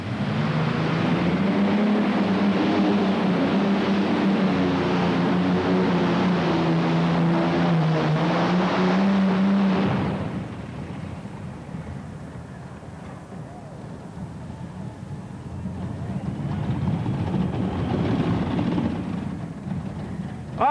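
A supercharged, fuel-injected pulling tractor engine roars loud and close for about ten seconds at a tractor pulling event, then recedes to a distant drone before swelling again.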